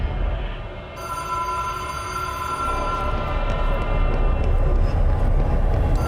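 An old-style telephone bell ringing in the video game Control, a sustained metallic trill that continues steadily and loudly over a low rumbling background hum, with no talking.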